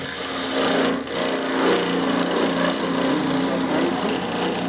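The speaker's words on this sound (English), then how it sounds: "the parting tool needs to be sharpened" A dull parting tool grinds against wood spinning on a lathe, giving a continuous rough, scraping whir that stays loud and close with a brief dip partway through.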